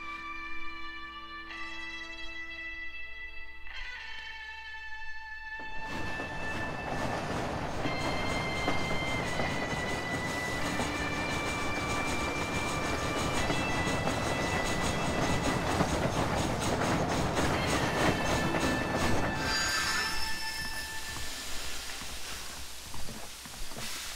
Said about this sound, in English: just like different cameras perspectives of the train here